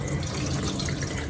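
Starchy first rinse water is poured off rice while making Japanese rice, a steady close splashing rush of water running the whole time without pause.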